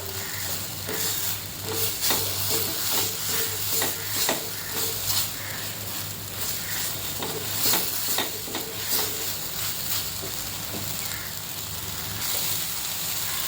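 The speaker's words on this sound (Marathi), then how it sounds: "हे चांगलं तेल सुटेपर्यंत परतून घ्यायचं" Masala paste sautéing in oil in a Malvani-style kala chana dish, a moderate continuous sizzle with repeated scraping stirs of a spoon across the pan and a low steady hum underneath, no talking.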